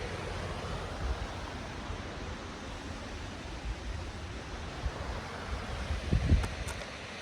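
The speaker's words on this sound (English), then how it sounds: "So this is just Sword Beach right here." Steady broadband wash of surf and wind on Sword Beach at sunset, an even roar with wind buffeting the microphone and a slight swell near the end, no voices.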